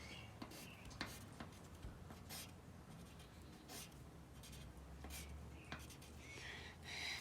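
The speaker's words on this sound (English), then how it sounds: "I'm just going to write hi because that's a really quick thing to write." A pen writes a short note on paper inside a folded paper flower card, giving a few close, soft scratching strokes with brief pauses between them.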